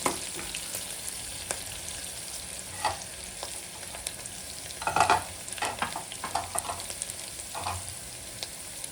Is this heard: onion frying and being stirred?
yes